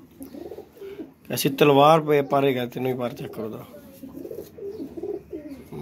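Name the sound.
pigeon cooing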